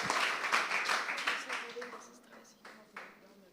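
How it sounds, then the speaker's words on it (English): Applause from the audience at the closing event of Truth, Lies & Democracy 2024, a sustained, fairly close wash of many hands clapping that gradually thins out toward the end. "I think we give them a big round of applause."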